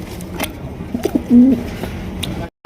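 A fancy-breed pigeon on a pigeon farm gives a short, throaty coo in the middle of the clip, close by. Faint bird chirps and light background noise surround it.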